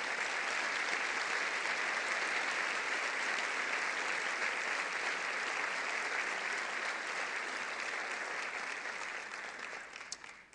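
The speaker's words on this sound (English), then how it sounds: "let's give them all a round of applause for their service" Sustained applause from a large crowd honoring elected officials at the 2019 Columbus State of the City event; a dense, even wash of clapping that fades out near the end.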